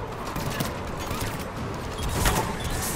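Rapid bursts of mounted gunfire crackle in a Mass Effect 3 battle, a dense, rumbling fusillade mixed with other combat noise and a voice in the background.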